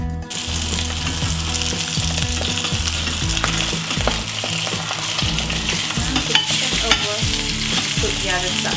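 Salmon fillet sears in a hot pan for a honey garlic sauce dish, giving a loud, steady sizzle and crackle that runs the whole way with small pops, no voices.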